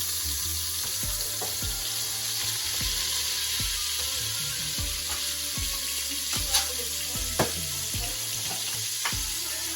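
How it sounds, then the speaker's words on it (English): Butter sizzling and frying in hot bacon grease in a pan on the stove, a steady crackling hiss with sharp pops and spatters, heard close up with no talking. "I'm gonna add some butter right in that bacon grease"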